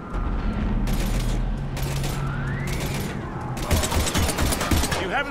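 Gunfire in the Mass Effect 3 Legendary Edition Vancouver mission, with dense bursts of shots over a loud, steady wall of combat noise and a rising whine, growing busier toward the end, with voices in the mix.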